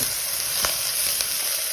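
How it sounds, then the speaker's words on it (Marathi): Spring onion greens fry in a pan with a ground chilli, coriander, ginger and garlic paste, giving a steady close sizzle with a couple of soft stirring scrapes. "आता पात घालायचं कांद्याची पात"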